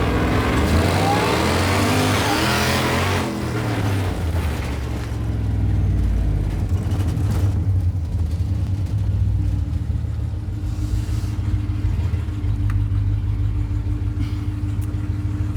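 A 700-horsepower engine in a Winnebago motorhome runs loud and steady, with a deep low rumble and a brief revving surge in the first few seconds before settling into a constant heavy idle.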